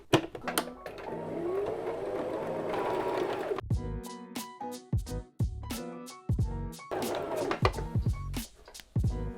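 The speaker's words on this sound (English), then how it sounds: "Alright, so I'm done with the stitching." Sewing machine stitching fabric for a tapestry hoodie, steady mechanical whirring runs that stop and restart with sharp clicks and clatter between stitching passes, close up and moderately loud.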